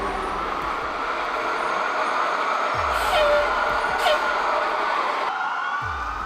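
A convoy of trucks moves patients in a hospital transfer in Birmingham, a loud continuous engine and road rumble with brief hissing bursts like air brakes and faint, sparse talk.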